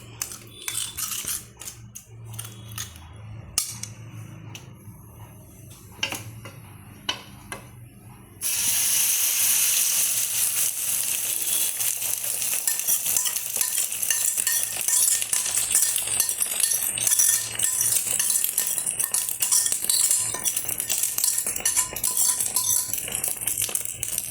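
Beaten egg mixture with salt hits a hot tawa and breaks into a loud, steady hiss and sizzle that holds on, after a few quieter clinks and handling noises.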